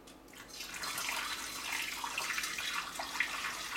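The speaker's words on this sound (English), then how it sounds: "What I'm going to do is put the funnel in the carboy and dump the sanitization water in there." Sanitizing water pours through a funnel into a glass carboy for winemaking, a steady, soft rushing and gurgling flow heard close up and alone.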